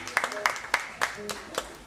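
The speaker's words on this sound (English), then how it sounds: "Better clap them hands. Clap them hands" Audience members clap their hands at a live show for a performer, a sparse, uneven run of loud individual claps spaced through a couple of seconds, with a voice talking over them.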